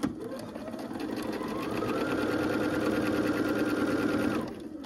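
A sewing machine stitches a quilt seam with a fast, steady mechanical whir that holds evenly for several seconds, close and loud, then slows at the end. No voices are heard.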